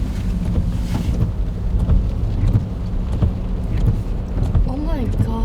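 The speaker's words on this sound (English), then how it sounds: "it can turn into a world of rain, and that's what we're dealing with right now" Heavy rain in Kodiak, Alaska, a dense close wash of drumming drops with wind buffeting the microphone, loud and continuous, with a voice speaking under it near the end.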